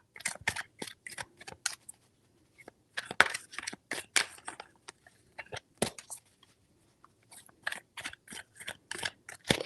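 Tarot cards are shuffled in quick, crisp riffles and slaps, close and fairly quiet, coming in uneven bursts with short pauses between them.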